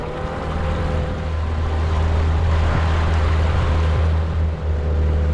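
A boat engine drones steadily on Loch Lomond in Scotland, running rough, under a loud wash of wind and water with a low constant hum throughout.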